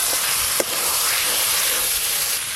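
Fried potatoes and cauliflower drop into hot spiced oil, setting off a loud, broad hissing sizzle that holds steady after a brief knock near the start, with no voices.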